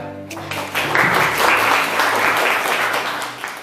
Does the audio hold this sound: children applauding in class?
yes